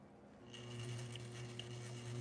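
A sewing machine stitches up to the corner of a corset with a zipper and modesty panel, its motor settling into a soft, steady whirring hum about half a second in and running on without pause or voices.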